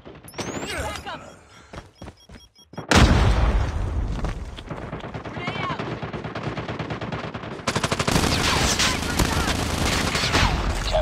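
Loud bursts of automatic rifle fire and sharp single shots erupt in a first-person shooter match, starting after a quieter lead-in and staying dense and close, with game voice callouts heard underneath.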